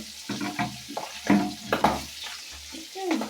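Air fish frying in a village kitchen pan, loud sharp crackles and pops bursting irregularly over a low sizzle, close by, with a voice briefly speaking.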